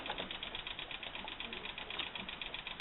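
A homemade pulse motor running steadily, a fast regular mechanical ticking and whirring pulse, close and fairly faint, with no talking.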